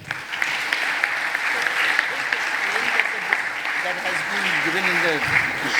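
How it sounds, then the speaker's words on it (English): A big round of audience applause at a conference session, loud and dense hand clapping throughout, with a person's voice rising faintly underneath toward the end. "A huge round of applause, please."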